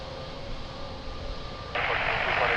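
An airplane takes off from runway 02 at Lisbon Airport with a steady engine hum and tones, and a broad roar swells abruptly and stays loud for the final second.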